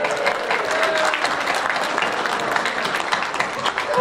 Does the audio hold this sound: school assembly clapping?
yes